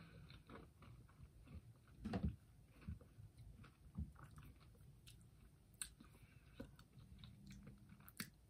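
Chewing on finely chopped almonds inside an almond roca candy, soft close crunches and bites scattered irregularly, faint and quiet with no talking.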